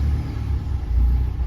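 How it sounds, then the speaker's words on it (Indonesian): The engine of an automatic Nissan X-Trail T31 turns over and starts, a brief, loud low rumble that holds steady at close range with no talking. "kita coba starter."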